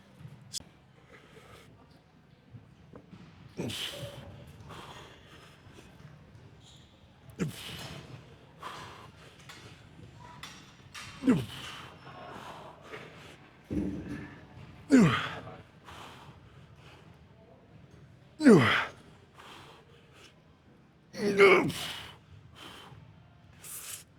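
Someone recovering after a back-day weight workout breathes heavily, with a series of loud, separate exhales and sighs spaced a few seconds apart over quiet room tone.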